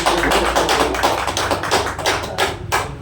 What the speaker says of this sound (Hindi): मैं चाहूँगा सुनील सर के लिए एक बार जोरदार तालियां बजाएं आप लोग